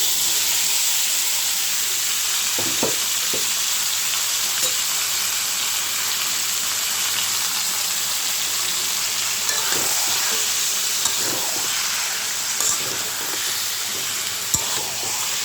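Goat meat sizzles steadily in a pan of browned onions for a slow-cooked bhuna, a continuous close frying hiss broken by scattered scrapes and clinks of stirring, with no talking.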